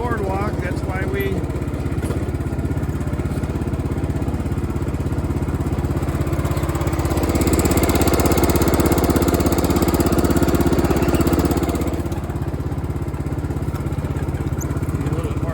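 A John Deere RX73 riding mower engine runs continuously while skidding logs through muddy January thaw ground, a steady loud drone that swells briefly as throttle rises, with someone talking.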